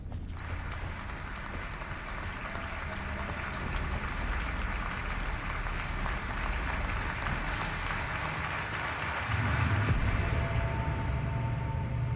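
Crowd applause in the video game Alan Wake 2, a dense, continuous wash of clapping that holds steady and swells slightly toward the end, with no talking.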